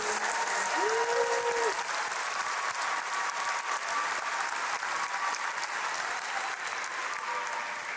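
An audience at a 2023 graduation ceremony claps continuously to welcome a speaker, a thick, steady wash of applause from a large crowd with a brief whistle-like tone near the start.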